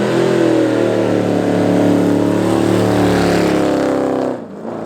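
A car doing a burnout after a car show holds a loud, sustained high rev with a strained engine drone that barely varies, then drops off near the end.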